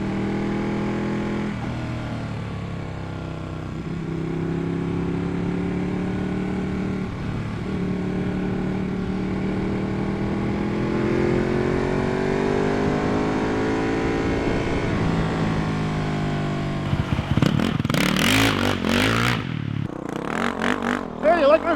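A Ducati 1199 Panigale motorcycle engine rises and falls through gears while riding, steady onboard drone with repeated revving sweeps, then buffeting wind noise and someone talking near the end.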